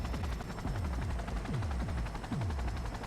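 Helicopter in the video game Cyberpunk, a loud, continuous rotor throb with rhythmic swooping blade pulses repeating about every half second, steady and close throughout.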